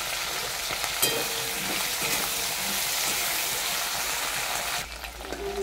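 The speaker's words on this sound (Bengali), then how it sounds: "ওই তেলেতে আমি ভেন্ডিগুলো ভেজে নেব।" Okra fries in oil left over from frying fish, giving a steady, dense sizzle with occasional stirring clinks that drops briefly near the end.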